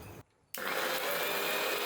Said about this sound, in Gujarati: આ રીતે ક્રશ કરીને આપણે લોટમાં એડ કરીએ ને એટલે કોઈને ખબર ન પડે કે અંદર દૂધી નાખી છે